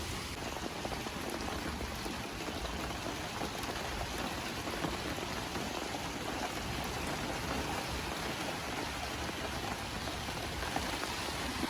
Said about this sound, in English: That rain is so noisy. There's like so much rain right now.